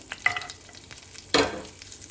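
Coriander stems and cashews fry in a pan for a paneer tikka masala, a soft steady sizzle broken by a couple of scraping stirs, one louder burst near the end.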